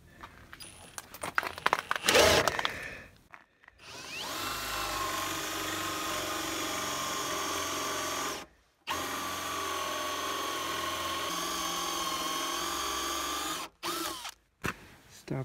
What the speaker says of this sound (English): I'm just removing the bulk of the material with a Forstner bit